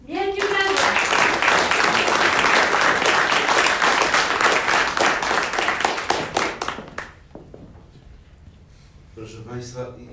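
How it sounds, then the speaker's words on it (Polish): A theatre audience at a book premiere applauds loudly and densely for about six seconds, then the clapping thins out and fades, and a voice begins speaking near the end. "Wielkie brawa!"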